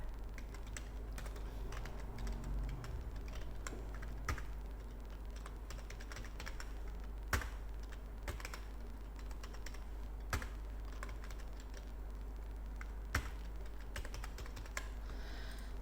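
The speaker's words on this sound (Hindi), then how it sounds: "सपोज डेट यहाँ पे कुछ टाइप कर ले रहे हैं, सपोज डेट नाम लिख ले रहे हैं" Typing on a computer keyboard while entering data in MS Excel, with faint, scattered keystrokes and a few sharper key clicks over a constant low hum, no voices.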